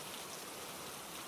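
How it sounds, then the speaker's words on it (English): Rain drumming softly and evenly on a curved glass conservatory roof at night, a steady, faint hiss with no voices. "Rain moved across the curved glass roof in waves."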